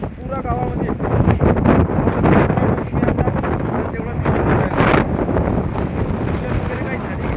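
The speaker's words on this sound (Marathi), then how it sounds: "एवढ्या जोरामध्ये हवा तुटलेली आहे, पाहू शकता तुम्ही किती जोरात आहे." A strong storm wind blasts steadily through a village in the aftermath of a dust storm, loud turbulent rushing and microphone buffeting that rise and fall in gusts without pause.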